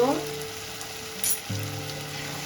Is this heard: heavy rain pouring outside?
no